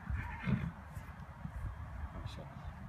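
A horse whinnies close by with a settled saddle on its back, the neigh breaking out near the start and then fading into low, steady background noise, faint talk drifting in and out.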